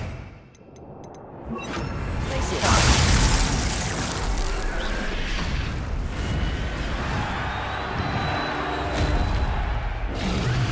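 Incendio fire spell cast in the Hogwarts Legacy video game, opening with a brief sharp effect and then swelling into a loud, roaring burst of flame and rumble that sustains for several seconds.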